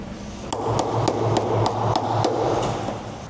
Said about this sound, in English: I recommend taking a chisel that you don't like and a hammer, and we're gonna get the big stuff off it